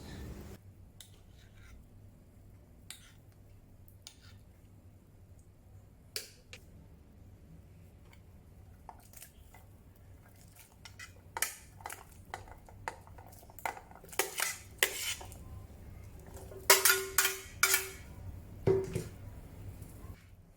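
Onions, carrots, tomatoes and potatoes go into a pot of Chinese ABC soup headed for a slow cooker. Sparse faint taps build into clustered clattering knocks toward the end, with nobody talking.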